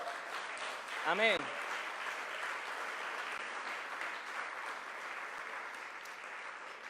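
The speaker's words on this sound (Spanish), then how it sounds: "Dale un aplauso a Jesús" A congregation breaks into applause at a church service, steady clapping that runs throughout, with a brief spoken word near the start.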